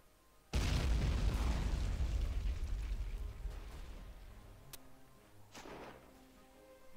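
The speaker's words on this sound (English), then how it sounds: "Some of their shots are destroying the barbed wire." Artillery shells exploding on barbed wire in the Battle of Empires war game: one loud, close boom with a long rumbling decay, followed by a couple of fainter distant bursts.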